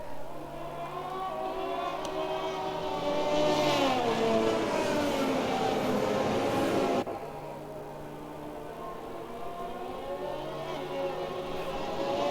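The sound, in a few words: race car engine revving in Xbox F1 racing video game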